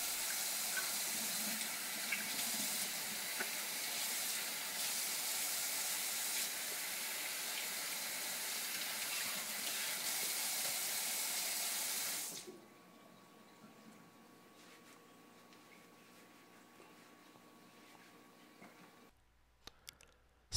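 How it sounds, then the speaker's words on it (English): Tap water runs steadily into a sink while hands are washed, a constant close rush for about twelve seconds before the flow is cut off, leaving quiet room tone and a few faint clicks. "First, you want to wash your hands thoroughly."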